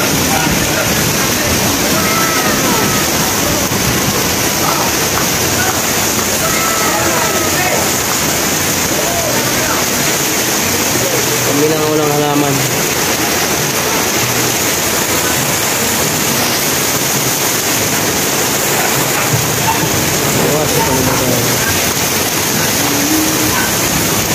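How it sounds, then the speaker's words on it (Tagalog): Heavy rain pours steadily and loudly throughout, a dense continuous wash with water sloshing and running, while people talk intermittently beneath it. "madali na matanggal yan kasi malakas ang ulan"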